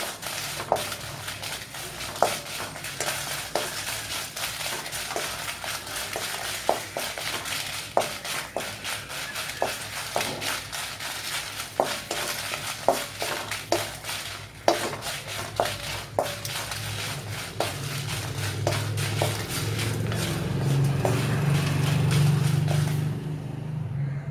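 Dried red chillies with stems pinched off being lightly roasted in a pan, steady rattling and clinking of pods and utensil against metal in a regular rhythm over a constant background rumble that swells near the end.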